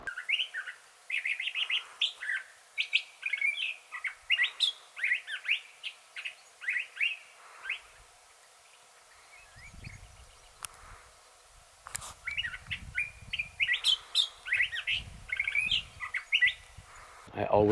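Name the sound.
thrasher bird calling in Sonoran Desert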